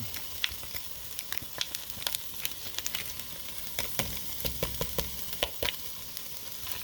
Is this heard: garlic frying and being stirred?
yes